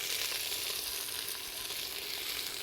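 Thinly sliced onion frying in olive oil with fennel, giving a steady, close, even sizzle that holds at constant loudness throughout, with no talking.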